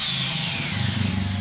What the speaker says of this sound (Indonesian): Penyangga atau kaki gorden ini akan kita pasang menggunakan bor.